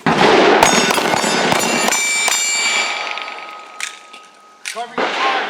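Handgun shots fired at targets on a training range, several sharp cracks spaced irregularly across the first half, each leaving a bright ringing tail like struck steel targets, then quieter clatter and a brief voice near the end.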